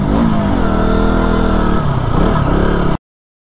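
A KTM motorcycle engine revs hard while the bike is ridden. It produces a loud, close, continuous roar with rising and falling pitch, then cuts off abruptly near the end. No speech.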